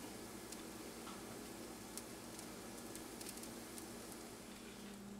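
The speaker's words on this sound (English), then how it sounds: "Yep, they're starting to sizzle. They're starting to crisp up." Potato skins sizzle as they crisp up while cooking: a soft, steady crackle scattered with small ticks and pops, heard alone without any talking.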